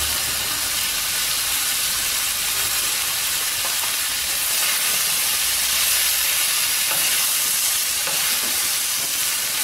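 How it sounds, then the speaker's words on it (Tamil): Red capsicum sautéing in a pan for chutney, a steady bright sizzle and hiss with occasional faint stirring scrapes, close and continuous with no voices. "குடமிளகா வந்து பச்சை வாடை போகணும், நல்லா வதக்கணும்"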